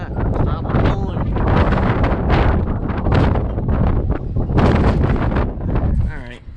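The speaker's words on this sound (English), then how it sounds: "Alright, this wind is getting too intense for my room" Strong wind roars steadily into a microphone during a severe thunderstorm, loud and close, with gusty buffeting and rustling debris and a voice faintly heard through it.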